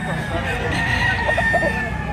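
Native rooster crowing at a chicken market in Baliwag, Bulacan: a single sustained call, fairly close, layered over steady crowd noise and low chatter.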